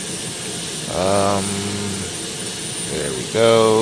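Boeing 767 jet engines hum while taxiing in a flight simulator game, a steady engine whine beneath a voice speaking briefly near the start and end.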